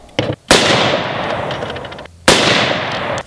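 Two very loud, close gunshots from a Smith & Wesson 460 Magnum handgun with a scope, loaded with hot rounds at a shooting range, each a sharp blast followed by a long echoing decay.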